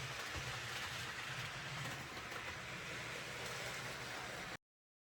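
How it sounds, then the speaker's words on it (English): A train rolls past in a steady, faint wash of rumble and rail noise, constant throughout before cutting off abruptly near the end. "you can let the train roll by"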